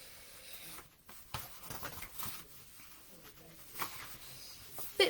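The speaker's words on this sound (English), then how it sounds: "just getting some scissors and just poking it through" Scissor points pushed through a paper plate resting on a rubber eraser for a polar bear mask, giving soft scattered scratches, rubs and pokes, close up and fairly quiet, with no talk.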